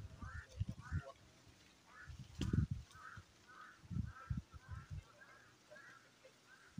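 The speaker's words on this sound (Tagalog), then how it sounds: "Dumami yung uwak" Harsh repeated caws from a growing flock of crows ring out in a loose series at mid-distance, while people talk and low handling noises thump in the foreground.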